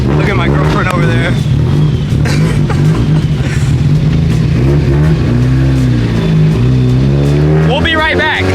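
A street car engine revving hard and repeatedly, rising and falling in pitch with loud rough exhaust close by, while someone speaks over it.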